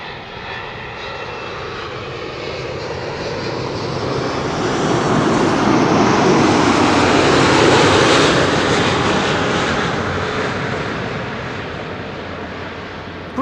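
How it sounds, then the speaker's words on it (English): A KLM jet airliner arriving from Vancouver comes in to land at Schiphol, a loud engine roar rising gradually to a peak mid-pass and then tapering off, heard alone without voices. "So this is KLM flight 682, arriving from Vancouver"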